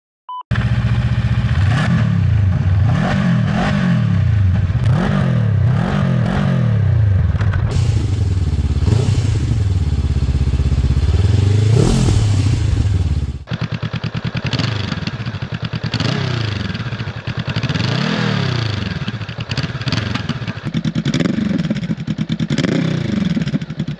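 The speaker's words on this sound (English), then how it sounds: "here's the exhaust notes comparison." Exhaust notes of a Honda NX500, CB500X and CL500 motorcycle in turn, each idling and revving in repeated rising-and-falling pulls, loud and close with no talk.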